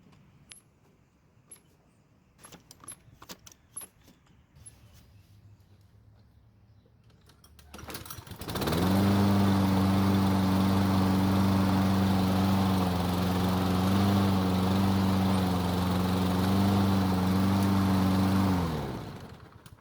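Quiet clicks and handling noises give way to a Toro Personal Pace mower starting up and running at a loud, steady drone up close for about ten seconds before cutting off.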